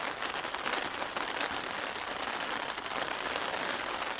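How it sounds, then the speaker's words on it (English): Light rain pattering steadily on a taut tarp overhead at a Boundary Waters wilderness campsite, a soft, constant patter with no voices. "Not a significant rain, but enough to send me under the tarp."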